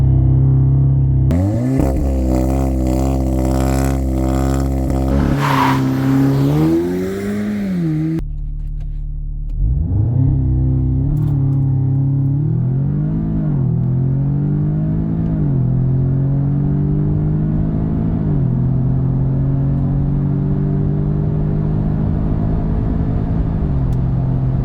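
Audi S3 accelerating hard with traction control off, engine building boost then revving through several gear changes with rising pitch sweeps, a brief drop around the shift and a long sustained pull, loud and close inside the car.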